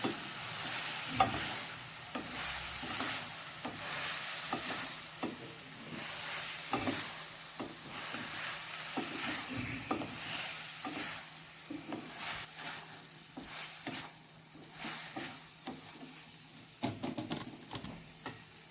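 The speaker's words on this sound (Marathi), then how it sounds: "त्यानंतर फ्राई करून घ्यायचं आहे योग्यरित्या खाली लागू नये म्हणून हलवून घ्यायचं आहे" Chilli paneer mixture stirred and fried in a pan, a steady sizzle broken by repeated scraping and clinking strokes of a spoon against the metal, close and continuous with no voices.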